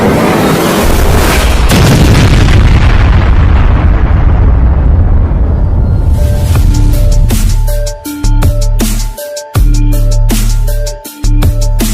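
A loud cartoon explosion blows up a palace, one long roaring blast that fades over several seconds before booming music stabs and bangs continue.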